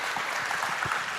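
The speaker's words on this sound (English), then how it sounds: "Please give a round of applause" A conference audience at a Baltic government-technology leaders event gives a brief round of applause, a steady wash of many hands clapping at moderate distance, with no talk over it.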